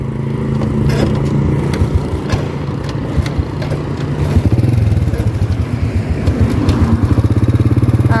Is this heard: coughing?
no